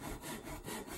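A woodcarving gouge cuts along a scratch on the shoulder of a soft-wood carving, giving a brief close-up burst of steady, scraping strokes.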